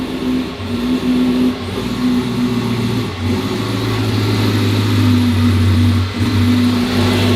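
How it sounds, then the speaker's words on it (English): A tuned car engine with a 100-millisecond ignition cut holds a loud, steady mechanical drone, broken by a few brief, sudden dropouts spaced a few seconds apart, with no voices. "Not only does the barrel work, but our ignition cut works as well."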